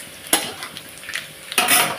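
Black cumin seeds hit hot oil in a pan with reddened garlic and green chilies. Sharp sizzling bursts sound close by, mixed with scraping stirs and a loud crackle near the end. No one speaks.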